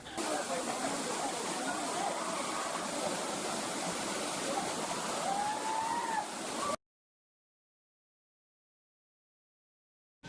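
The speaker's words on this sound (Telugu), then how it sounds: "మనకు వాటర్ ఫ్లో అనేది అంత హైట్ నుంచి అయితే ఫ్లో అవుతుంది" Katiki waterfall in Araku valley pours from a height with a steady broadband rush of falling water, with faint voices mixed in. The sound cuts out abruptly after about seven seconds, leaving silence.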